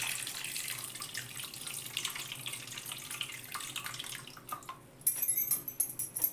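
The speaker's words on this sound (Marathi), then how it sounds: "चार पाच वेळेला असं पाण्यातनं काढलं की पूर्ण सालं निघतं हो." Mung beans are washed in water to rub off their husks, giving soft continuous swishing and trickling, with a few louder splashes near the end and no talking.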